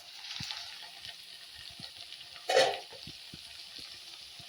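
Spring onions and peas sauté in a pan with a soft, steady sizzle, close and quiet, broken by one brief louder stir or scrape partway through.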